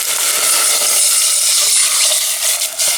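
Water poured into a pot of onion frying in olive oil gives a loud, steady hiss and sizzle that lasts the whole few seconds.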